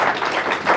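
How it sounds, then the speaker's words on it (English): An audience claps for a speaker at a sponsored tech talk, a short burst of steady, dense clapping from a crowded room with no voices over it. "Let's give an applause to Kristal."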